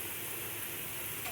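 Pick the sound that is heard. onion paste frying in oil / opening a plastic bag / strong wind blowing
onion paste frying in oil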